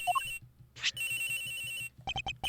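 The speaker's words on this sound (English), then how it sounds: "This has gotta be the victim's cell phone." Cell phone ringtone in the Ace Attorney Investigations video game, a bright electronic melody of short repeating tonal beeps over a soft rhythmic pulse, loud and close.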